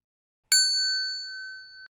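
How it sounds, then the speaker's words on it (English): A single bright bell strikes once, clean and clear, and rings out for over a second before cutting off, with silence around it. "She has our bells."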